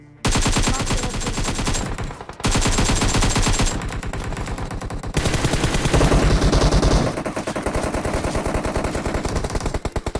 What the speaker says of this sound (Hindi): जो बहुत तगड़ी वाली फायरिंग होती है